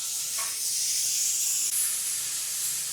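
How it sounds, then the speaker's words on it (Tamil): A pressure cooker of pulao rice vents steam in a loud, close, continuous high hiss that holds steadily for several seconds with no other sound. "ஒரு விசில் வந்துருச்சு"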